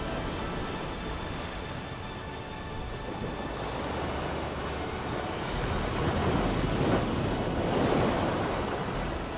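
Heavy storm surf with high ocean waves pounding around a large ship, a steady roar of broadband wash that swells louder toward the end, with no voices.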